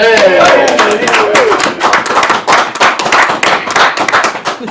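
A raucous talk-show studio audience claps loudly and steadily, dense overlapping hand claps with some cheering, with a voice briefly audible at the start.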